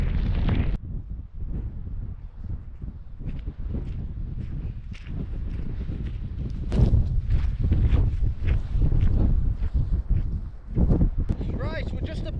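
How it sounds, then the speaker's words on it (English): A brutal gale roars across the cloud-covered summit of High Raise in the Lake District, a steady, close, low buffeting rumble that swells into heavier gusts and persists across the whole stretch. "Oh, I'll be glad to get in that shelter because this wind is brutal."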